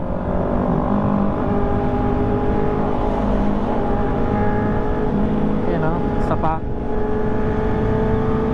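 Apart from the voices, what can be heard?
Villain R9 exhaust revving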